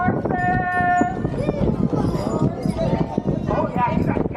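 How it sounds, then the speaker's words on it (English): Hooves of Percheron draft horses pulling a carriage on Mackinac Island clop steadily along the road under ongoing talk from people nearby, mixed with a busy background and a brief tonal sound early on. "Mason and Tony are Percheron draft horses."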